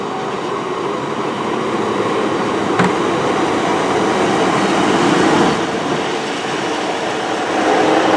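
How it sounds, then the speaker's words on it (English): Great Western Railway passenger train rolling into a station at Severn Tunnel Junction, a steady loud rumble of wheels and engine with rail clatter and a brief squeal, no voices. "the next train to come in now, it's a 1427 Great Western Railway service to Taunton from Cardiff Central"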